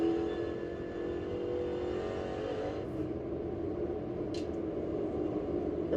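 Stock car engine in a NASCAR All-Star race at North Wilkesboro, heard from a distance as it accelerates off turn 2: a steady, loud engine drone with a faint high whine, and no talking.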